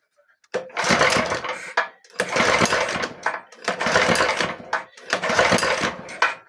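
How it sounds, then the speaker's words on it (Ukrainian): A homemade mini tractor engine is cranked four times in a row, each pull a loud, rough mechanical burst of about a second without catching, separated by short silences. "Щоб цей мотор звести, треба мати здоров'я."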